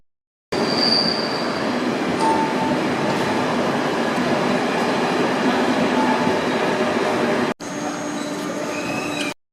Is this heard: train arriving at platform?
yes